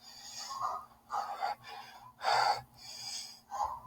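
Heavy, nervous breathing sounds close up. A series of loud gasping breaths come in uneven bursts with short pauses between them.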